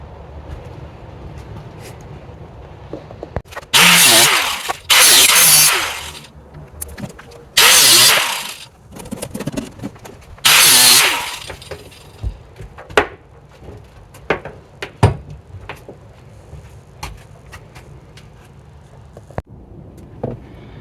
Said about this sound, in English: I'm going to take a cutoff wheel and I'm going to cut off the heads on these 4